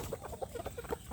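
Free-range village chickens (ayam kampung) cluck softly in a quick, irregular series of short calls, faint and close, with no talking.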